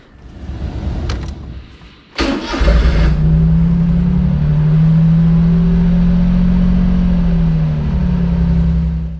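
A Honda Beat engine, just back from an oil change, cranks and catches after a couple of clicks and a brief shuffle, then settles into a loud, steady idle that holds close by without any voices.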